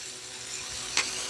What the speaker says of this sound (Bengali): এখন মাছ ভাজা তেলের মধ্যে পেঁয়াজটা দিয়ে দিয়েছি। এখন পেঁয়াজটা ভেজে নিব।